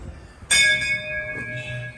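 A metal bell rings once at the entrance of Jakhu Hanuman temple: a sharp, loud strike with a long, shimmering ringing decay and a faint second touch, against a quiet outdoor background.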